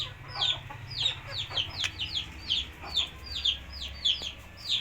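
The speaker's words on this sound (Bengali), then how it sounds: "এই ঘরে আসে মুরগিগুলো দেখলে একটা শান্তি শান্তি লাগে।" Domestic hens clucking steadily in a village coop, many short repeated calls close by and overlapping, over a low steady hum.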